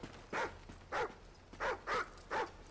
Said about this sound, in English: What's this dog up to?